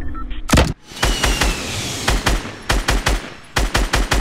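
Gunfire in the video game Fortnite: loud, close bursts of rapid automatic fire, with several clusters of sharp repeated shots separated by brief pauses and one heavier single blast early on.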